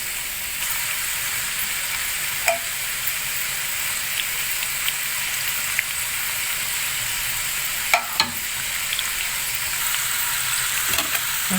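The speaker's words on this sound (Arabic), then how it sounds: "ونقوم محمرنا في الزيت" Dough frying in hot oil, a steady, fairly loud broadband sizzle that runs throughout, with a few brief clinks and stirring knocks scattered over it and no talking.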